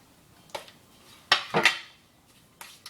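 A large metal baking sheet is handled for cookies, giving a few sharp clanks and rattles, one loud double clatter in the middle, with quiet gaps between.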